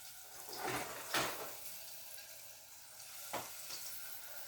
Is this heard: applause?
no